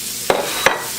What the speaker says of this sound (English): These are decent sized shrimp with the blackening seasoning. We're just going to saute these off.